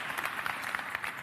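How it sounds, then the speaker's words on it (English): Applause from a packed hall audience at a livestreamed event in the Beurs van Berlage, Amsterdam, a steady brief patter of clapping heard at moderate distance, fairly faint. "Give them a big round of applause"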